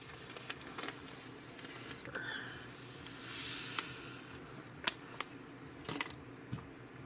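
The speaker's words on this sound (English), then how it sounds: "we're going to open up the package of Jello" Crinkly plastic rustling and tearing as a packet of Jello is opened in a holiday kitchen, a soft hiss swelling midway with several sharp crinkles and snaps toward the end, close and fairly quiet.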